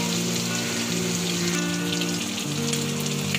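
Shrimp fry lightly in a pan for a Bengali mocha chingri ghonto, giving a steady, soft hiss and sizzle with a constant hum alongside, no voices.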